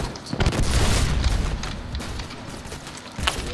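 A grenade goes off in the shooter game Phantom Forces, a loud close boom with rumbling low end in the first second, followed by fainter scattered game noise and a smaller thump near the end.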